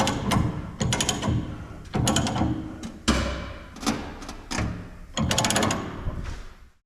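Ratchet wrench clicking in repeated bursts while bolts on a salter are snugged down, several close, loud runs of rapid ratcheting separated by short pauses, with no talk.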